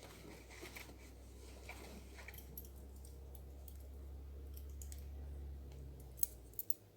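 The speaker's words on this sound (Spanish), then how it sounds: "nos introducimos ahí en la primera cadenita y simplemente pasamos y cortamos el hilo" Scissors snipping crochet thread, small faint clicks over a low steady background hum, with a few sharper snips near the end.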